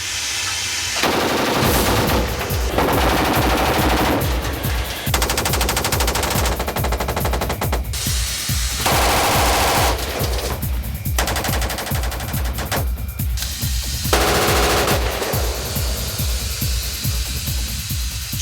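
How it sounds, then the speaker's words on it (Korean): K12-series 7.62mm machine gun firing during a final reliability test, long sustained automatic bursts of rapid, evenly spaced loud shots, separated by short pauses, close and powerful with no voices. "K12 시리즈의 신뢰도를 평가하는 마지막 시험 사격"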